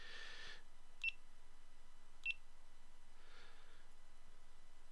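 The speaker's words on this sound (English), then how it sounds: "And you hear it beeping." A GoPro Hero 7 action camera gives two short, clear electronic beeps about a second apart, over a quiet room hiss with faint breathy noises around them.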